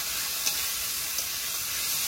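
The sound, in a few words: pointed gourd frying in oil in a wok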